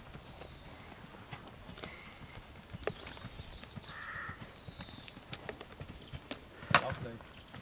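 Hoofbeats thud rhythmically on soft ground as a horse canters at a steady pace during show jumping training, with birdsong in the background and people talking faintly.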